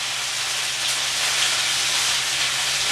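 Onions softening in a pan on a home stove give off a steady, even sizzling hiss with no breaks and no talking.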